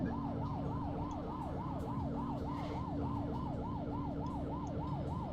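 A police car siren in the video game The Precinct wails steadily, cycling up and down rapidly and evenly over a constant engine hum, with no voices.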